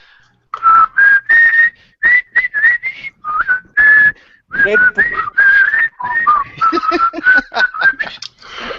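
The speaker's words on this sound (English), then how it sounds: "Let's have a whistle." A person whistles a lively tune up close, in quick bursts of short and held notes, with no talking.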